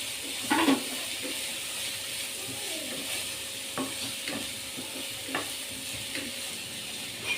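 Sliced okra sautéed in a pan as a stir-fry gives a steady low sizzle with occasional spoon scrapes and taps, close but fairly quiet, and no one speaks.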